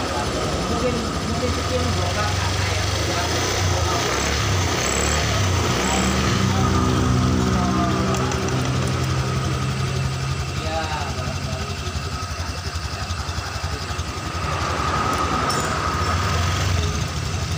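A Honda Genio scooter engine running after a new ECU was fitted, idling then revved with the throttle, a steady buzzing motor hum that rises and falls, with someone talking over it.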